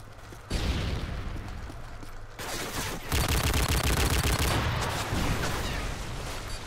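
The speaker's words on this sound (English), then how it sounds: "let's see if I can snipe out that turret" Modern Warfare 3 multiplayer gunfire, loud close bursts of automatic fire layered with sharper single shots, packed and continuous with brief gaps, with no voice.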